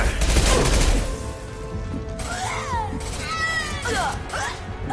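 Gunfire during a firefight in the video game Mass Effect 2, loud bursts of shooting over a dense battle din, with voices shouting and talking through it.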